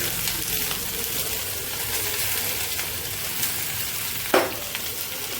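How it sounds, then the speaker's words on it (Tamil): Chopped onions with mustard seeds, urad dal and cumin fry in oil in a kadai, a dense, loud, continuous sizzle close up, with one sharper stirring scrape toward the end. "கடாயை வச்சுட்டு எண்ணெய் விட்டுட்டு கடுகு, உளுத்தம்பருப்பு, சீரகம் போட்டுட்டு வெங்காயம் கட் பண்ணி போட்டுறேன்."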